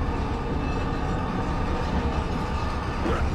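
Train from Resident Evil 4 rolling steadily, a dense continuous rumble with a faint clatter that stays loud and close throughout, with no voices.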